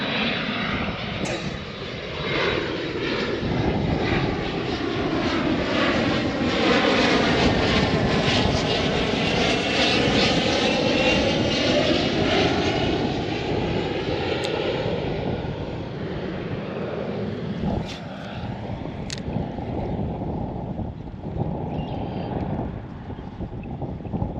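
A propeller airplane roars low overhead, its engine drone rising and sweeping in pitch as it passes, with wind buffeting the microphone.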